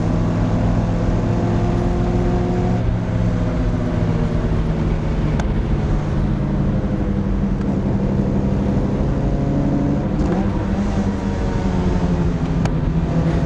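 A 1988 Toyota MR2 sports car engine drones steadily throughout, its pitch rising and falling as it downshifts and winds through canyon bends, loud and close with no talking.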